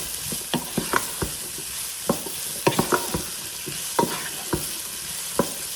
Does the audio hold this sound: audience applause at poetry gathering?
no